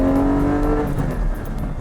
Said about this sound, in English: And once again, the sound of the engine.